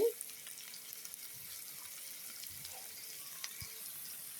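Small fish cooking in a pan, a soft continuous frying sizzle with faint stirring clicks and a couple of brief utensil knocks, quiet and close, with no voices.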